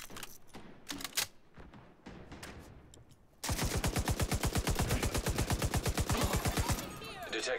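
Rapid automatic gunfire in a shooter video game erupts midway as a sustained, evenly spaced burst lasting several seconds, loud and close, after a quieter stretch of scattered clicks and brief talk.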